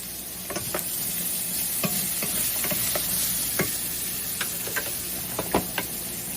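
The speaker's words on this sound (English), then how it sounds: "I'm going to throw some of this garlic in here." Garlic sizzles in a hot pan for pepper steak, with a steady frying hiss punctuated by sharp clicks and taps of stirring.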